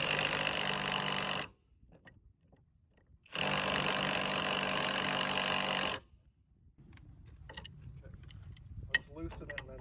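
A Temu impact driver, set against a Dewalt, tightens in two loud close bursts of buzzing hammering separated by silence, then quieter handling clicks and rustles follow.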